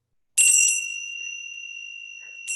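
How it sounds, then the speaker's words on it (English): A small bell rings once with a bright clear strike, its tone sustaining and slowly fading, then a second light ding at the end. "They're very light bells that are heard in a distance."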